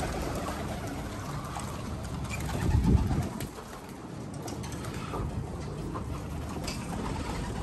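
Pigeons coo steadily in a rooftop loft, soft repeated calls over a constant outdoor background hum, with a brief louder rustle partway through and no speech.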